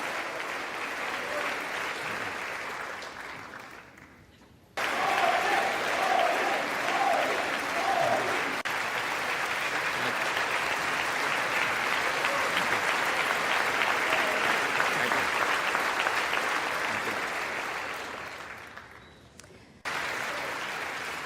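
Thunderous applause for the Indian prime minister's speech at the White House, a sustained roar of clapping from a big audience that fades briefly, surges back and carries on at length.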